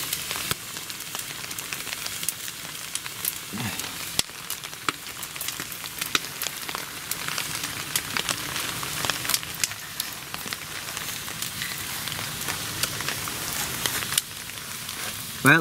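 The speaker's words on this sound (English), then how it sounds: "as you can hear, it's raining" Rain patters steadily on a tarp shelter beside a campfire, a close, continuous hiss with scattered sharp ticks and crackles throughout.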